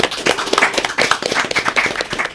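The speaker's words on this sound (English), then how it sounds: "I'd like to have a round of applause" A small group gives a round of applause on a podcast, a few nearby pairs of hands clapping unevenly in quick, sharp bursts for a couple of seconds.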